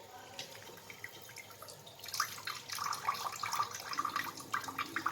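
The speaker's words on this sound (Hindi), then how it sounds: "इसका पानी इस तरीके से हमने निचोड़ दिया" Water drips and trickles as strained yogurt bundled in cloth is squeezed, a sparse patter that grows into busier, denser dripping partway through, close and fairly soft.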